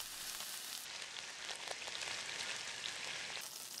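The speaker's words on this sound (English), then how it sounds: "Generously salt the meat from all sides and roast it all around over medium heat for around 10 minutes." Beef searing in a pan over medium heat for a braised pot roast, giving a steady, even sizzle and crackle that is moderately quiet and unbroken, with no voices.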